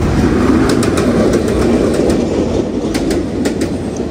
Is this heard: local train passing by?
yes